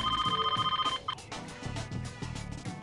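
A cell phone rings in the My Scene CD-ROM game with a fast, warbling electronic trill that breaks off, followed by bright chiming musical tones and a soft backing tune.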